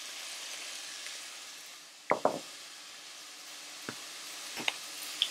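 Shrimps and scallops sizzle steadily in garlic butter in a pan, a close, even hiss broken by a few sharp clinks of a utensil.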